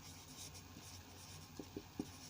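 Chalk or marker writing on a board during a classroom lesson, soft scratchy strokes under quiet room noise, ending in three short taps close by; no one speaks.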